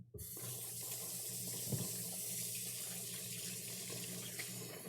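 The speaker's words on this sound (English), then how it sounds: "go ahead and rinse your hands once you're done" Water pours steadily from a kitchen faucet as hands are rinsed after preparing spinach and ricotta gnudi. The stream is close and continuous throughout, with a brief splash partway through and no talk.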